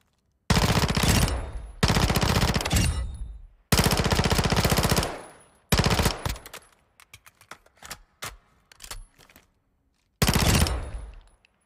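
An M4 rifle in Modern Warfare II fires in an indoor shooting range, with four loud, rapid automatic bursts close up, followed by scattered single clicks and shots, then one final burst.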